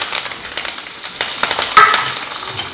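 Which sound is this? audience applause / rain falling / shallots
shallots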